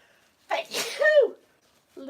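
One close, loud human sneeze: a quick breathy intake, then a sharp voiced burst trailing off, with a voice starting to speak just after.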